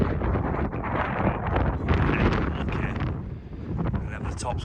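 Strong, steady wind buffets the microphone on the summit of Ben Nevis in a continuous roaring rush, loud and close throughout, with brief gusts swelling and easing.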